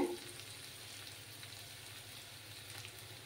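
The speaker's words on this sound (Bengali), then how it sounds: "পেঁয়াজগুলোকে একটু লাল করে ভেজে নিতে হবে।" Onions fry in a pan for an egg and potato dish, a steady, soft, close sizzle and crackle that holds evenly throughout with no talking.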